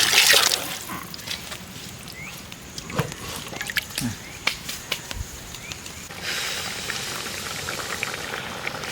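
Water goes into a pan of spiced quail curry masala with pepper powder, coriander powder and cumin powder, village style, making a soft close splashing and bubbling that grows into a steadier hiss toward the end.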